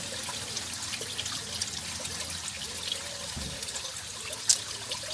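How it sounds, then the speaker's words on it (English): Water from the Chalice Well spring in Glastonbury trickles and pours steadily into a jug, a soft continuous splashing hiss with a small clink near the end. "We're going to fill up our water jug with the Chalice water."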